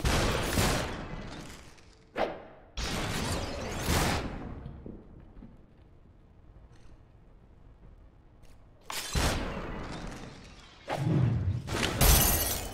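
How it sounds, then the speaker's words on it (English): Bullets collide and shatter in the video game Superhot, with several loud, sharp glassy bursts separated by quiet stretches of faint low ambience. "One of our bullets collided there"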